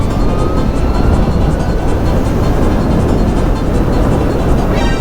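A Harley LiveWire electric motorcycle pulls away under power in sport mode, giving a loud, steady whir of motor and rushing wind that holds evenly throughout, with a faint rising whine near the end.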